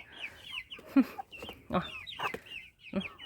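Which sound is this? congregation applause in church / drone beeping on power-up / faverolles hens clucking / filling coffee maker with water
faverolles hens clucking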